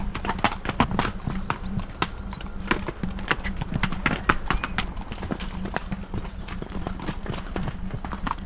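Horses' hooves clip-clop in a fast, uneven rhythm of sharp impacts during an endurance ride, several animals moving close by over a continuous background rumble.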